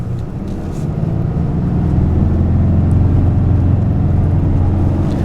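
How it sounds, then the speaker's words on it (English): A RAM 2500 Laramie AEV Prospector XL pickup truck accelerating at wide open throttle, heard from inside the cab as a steady, loud, low engine drone with broadband road noise that builds slightly and holds throughout. "Wide open throttle."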